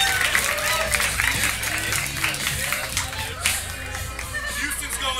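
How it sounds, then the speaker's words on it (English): A comedy club audience at a roast battle applauds a fighter being introduced, dense clapping with a few sharp claps and crowd voices mixed in. "Start clapping right now for Joshua Jordan."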